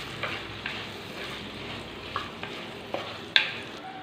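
Kashmiri chili powder frying in a pan as it is stirred: faint, steady sizzle with a few soft scrapes and taps of the spoon, quiet and alone.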